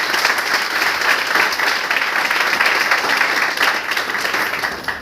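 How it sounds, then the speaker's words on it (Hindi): Audience applause fills the room at a Hindi-language talk or seminar, steady dense clapping from a crowd sustained for about five seconds at fairly loud level, with no speech over it. "जोरदार ताली सबके लिए। जोरदार।"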